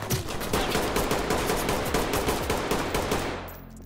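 Rapid automatic gunfire in the tactical shooter Ready Or Not, a loud close burst of many rounds in quick succession lasting several seconds before fading into echoing decay.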